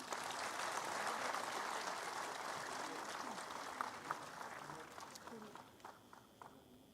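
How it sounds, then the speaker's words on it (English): Audience applause fills an inaugural session hall, a steady wash of clapping from the start that slowly thins out toward the end, with some voices and scattered claps near the close. "Please welcome with a big round of applause."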